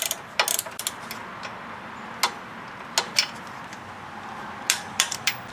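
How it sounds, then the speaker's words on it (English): Ratchet wrench clicking while bolts are tightened on a 2000 Chrysler 300M engine during cylinder head replacement, short bursts of metallic clicks with pauses, close and fairly quiet. "Okay, I tightened these two bolts."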